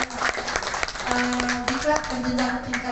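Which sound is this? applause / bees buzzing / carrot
applause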